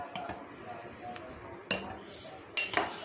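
Sweet custard being stirred in a pan on the stove: a spoon scrapes and clinks against the metal several times at irregular intervals, close and moderately loud over a quiet kitchen background.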